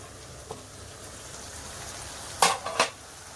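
Mango chicken curry made with raw green mango fries in oil in a pan, giving off a soft, steady sizzle, then a few sharp utensil clinks against the pan near the end, with no voices.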